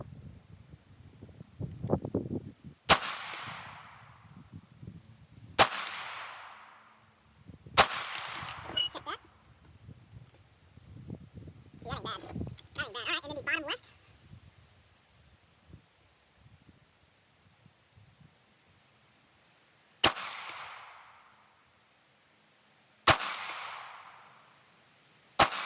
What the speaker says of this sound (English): We're going to go ahead and fire a couple more rounds.